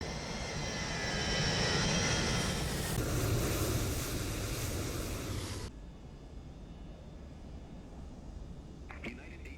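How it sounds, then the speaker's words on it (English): Airliner taking off in Microsoft Flight Simulator 2024 at a busy airport: a loud, sustained jet engine roar that builds and holds, then drops sharply to a distant lower rumble as the aircraft departs. "Oh, we got another plane taking off."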